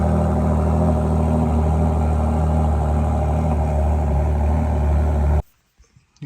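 A 2021 Ford GT with a 3.5-liter EcoBoost engine idles with a steady, loud, close rumble that cuts off abruptly near the end, leaving near silence.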